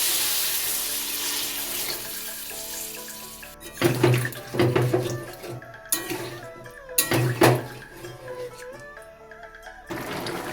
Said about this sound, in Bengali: বাকিটা সিদ্ধ হওয়ার জন্য পরিমাণ মতন জল দিয়ে দিচ্ছি